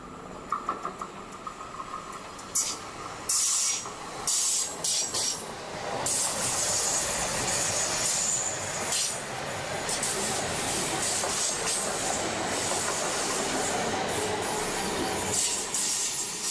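A Stadler Flirt 3 electric multiple unit rolls past, opening with clicking wheel beats and then a loud sustained rush of rail noise with high wheel squeal, heard trackside with no speech.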